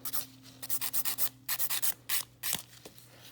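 Acrylic nails being filed in quick back-and-forth strokes, a rapid series of short, bright rasping bursts in rhythmic clusters, close up and alone over a low steady hum.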